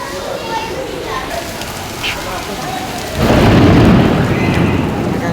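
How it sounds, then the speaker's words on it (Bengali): Heavy rain pours steadily, then a deep roll of thunder swells and rumbles loudly near the end, with faint voices in the background. "দেখেন কি বজ্রপাত আর বৃষ্টি।"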